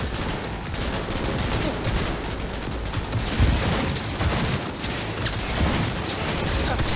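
Automated turret fire in the shooter game Cyberpunk 2077, dense rapid bursts with mechanical clatter forming a continuous loud barrage throughout.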